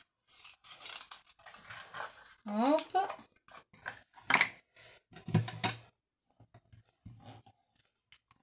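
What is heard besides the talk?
scissors cutting a piece of paper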